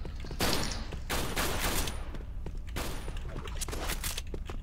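K5 starter gun firing in a 1v1 video game match, rapid bursts of automatic gunfire in several clusters with short pauses between, loud and close throughout.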